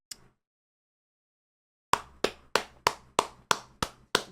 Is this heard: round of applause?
yes